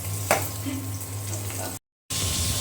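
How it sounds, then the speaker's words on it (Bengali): Hot oil sizzling and spattering as food fries in a pan, a dense close crackle with a sharp pop near the start, briefly cut by a moment of silence before resuming. "এই কি ফোটা ফুটছে, গায়ে তেল ছিটকাচ্ছে"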